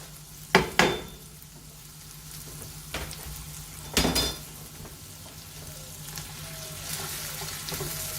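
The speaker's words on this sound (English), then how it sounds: "so I'm going to add my onions. And I'm going to cook them just until they're translucent." Onions drop into a hot pan and fry with a steady sizzle, punctuated by a few sharp knocks and clatters of a spoon or pan near the start and middle.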